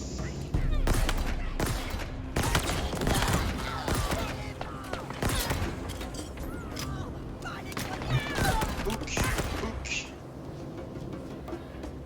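Rapid bursts of gunfire from the video game Halo Infinite, loud and dense with sharp repeated shots across most of the span, while players talk over the action.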